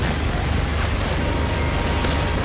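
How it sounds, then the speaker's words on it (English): Tank cannon fire in the Modern Warfare 3 Spec Ops mission Iron Clad, heard from inside the tank: a loud, dense continuous rumble with a sharp burst near the end. "Wait, I can fire the cannon?"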